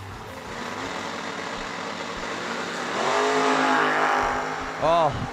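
Drag race cars, a Monza and a wagon, roar together at a no-box drag race, loud engine noise swelling and revving before a louder burst near the end, with an announcer talking over it.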